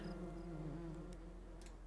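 Bees buzz in the tile puzzle video game Preserve, a steady, faint, droning hum that holds for about two seconds with slight wavering in pitch.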